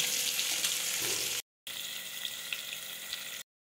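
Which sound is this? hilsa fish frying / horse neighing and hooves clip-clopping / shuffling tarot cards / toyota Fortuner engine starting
hilsa fish frying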